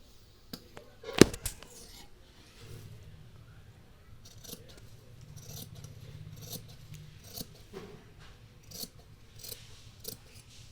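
Scissors snip through blouse fabric in a quiet room, one sharp crisp cut followed by a string of faint, irregular snips and soft rustling of cloth.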